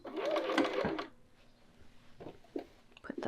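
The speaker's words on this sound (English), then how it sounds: "my edge stitching foot is back on. And we're just going to go right along that seam line." Sewing machine edge stitching along a skirt seam line with an edge stitching foot: a close, steady run of rapid needle clatter for about a second, then stopping, followed by faint handling taps and rustles.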